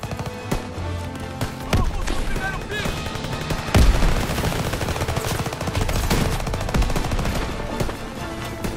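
Rapid bursts of automatic rifle and machine-gun fire in a Call of Duty World War II battle, sharp cracks layered over a continuous roar of shooting, with a heavier blast near the middle and voices shouting underneath.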